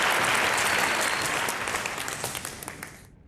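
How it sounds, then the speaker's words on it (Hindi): Loud, dense audience applause in a studio game show, holding steady and then thinning into scattered claps before cutting off abruptly. "जोरदार तालियां पर अनिरुद्ध एवरीबॉडी"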